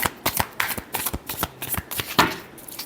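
Tarot cards are shuffled by hand in quick, crisp riffling bursts, several in a row. The rapid papery slaps are close and distinct, with only faint background behind them.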